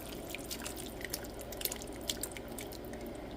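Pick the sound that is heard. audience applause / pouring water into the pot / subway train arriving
pouring water into the pot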